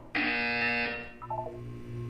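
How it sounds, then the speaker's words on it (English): A loud electronic buzzer from the video game Portal sounds once for just under a second, a steady harsh tone, then gives way to faint musical blips and a low hum. "When you hear the buzzer, look down at the floor."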